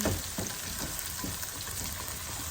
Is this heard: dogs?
no